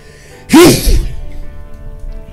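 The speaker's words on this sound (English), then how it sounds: "Excuse me, I had to sneeze" A single loud, close sneeze bursts out sharply and then trails off into quiet room tone, with no talk around it.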